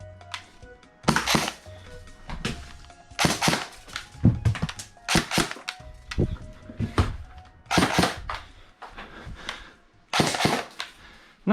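Airsoft Vector (Fennec .45) fired semi-auto indoors in dim close-quarters lighting: about ten sharp, snappy shots, some in quick pairs, spaced irregularly with short pauses and no voices between them.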